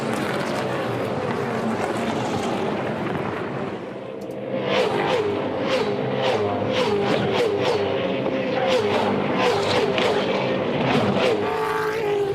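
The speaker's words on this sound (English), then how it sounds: "Cars go by there at about 190 kilometres an hour" Supercars touring cars racing at the 2012 Perth event, engines roaring loudly and continuously as cars pass at around 190 km/h, with a commentator talking over the din.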